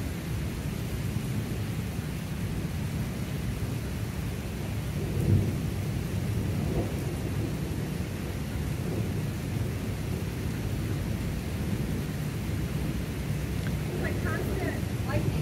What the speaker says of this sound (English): Nothing like standing out in the middle of a storm makes you feel alive